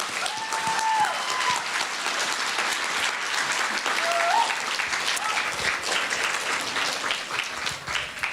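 Audience applause after a poetry reading, a steady, moderately loud wash of clapping with scattered cheers and a few brief vocal calls rising above it.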